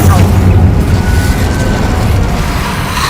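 An Incendio fire spell blast in a Harry Potter video game, a loud sustained booming roar of flame filling the whole stretch and slowly easing off.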